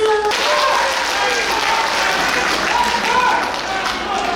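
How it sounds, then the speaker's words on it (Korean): Audience at a live trot concert in Cheongyang applauds and claps steadily throughout, a dense, fairly loud crowd sound with a voice or music tones faintly mixed in near the start. "그럼 박수 많이 치셔야 돼요"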